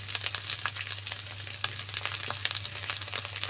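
Onion, garlic, ginger and cumin spice paste frying in a pan for a home-cooked curry, a soft continuous crackling sizzle with light stirring scrapes, fairly faint and close, with no voices.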